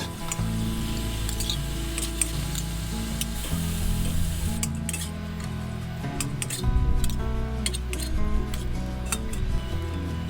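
Fried climbing perch tossed and stir-fried in a hot pan with holy basil, giving a steady close sizzle with scattered light metallic clinks and scrapes of a utensil against the pan, continuous throughout without talk.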